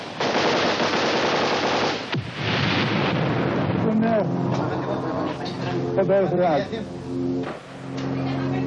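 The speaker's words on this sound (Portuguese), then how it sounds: "Ele foi apanhado no meio de uma troca de tiros entre guerrilheiros e forças de segurança." Bursts of gunfire from a crossfire between guerrillas and security forces crackle through a dense, chaotic mix of noise and shouting voices, loud and close, with brief pauses between volleys.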